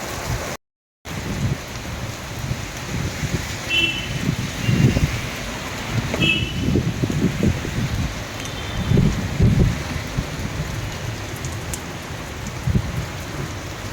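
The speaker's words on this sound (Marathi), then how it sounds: "मुंबईमध्ये सकाळ सकाळी इतका जोरदार तुफान पाऊस सुरू झालेला आहे" Heavy morning rain pours down in Mumbai as a steady, dense roar of drops that runs throughout, with a brief dropout near the start and no speech.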